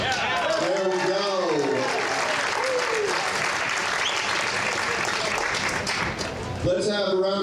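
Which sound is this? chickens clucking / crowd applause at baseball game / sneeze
crowd applause at baseball game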